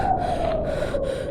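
An old woodcutter wrapped in a coat panting, a horror-story sound effect: steady, close, breathy gasps and snorting breaths run throughout over a held eerie tone.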